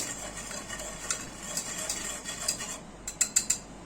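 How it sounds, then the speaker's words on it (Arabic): A spoon scrapes and clinks against a pot while sugar syrup of half a cup each of water and sugar is stirred on the stove, a soft bubbling hiss underneath and several sharper metallic taps near the end. "نقلب"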